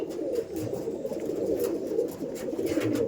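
Madrasi pigeons coo in low, throaty, overlapping murmurs, a close and steady chorus with soft wing shuffles and no talking.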